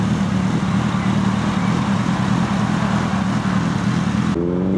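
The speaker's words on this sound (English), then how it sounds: "we've got the very busy A148 immediately behind me" Steady traffic roars along the busy A148 road near a bus stop, a loud, constant wash of passing vehicles that cuts off abruptly near the end.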